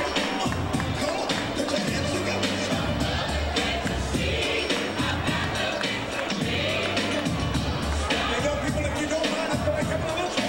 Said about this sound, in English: there he comes in, the crowd greets him.